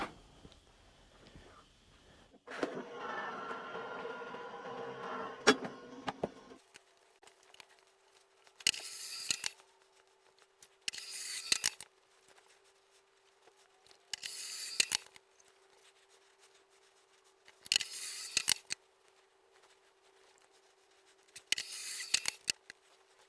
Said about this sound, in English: With the AccuQuilt, you can cut up to 6 layers of fabric at once.